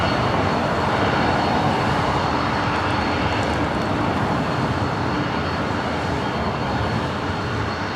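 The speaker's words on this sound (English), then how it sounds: "we got that 767-300ER. This flight heading to JFK, now making its way over to 24 right" Boeing 767-300ER jet taxiing toward runway 24 right at LAX, a steady, loud broadband engine roar that holds evenly for the whole stretch with no voices.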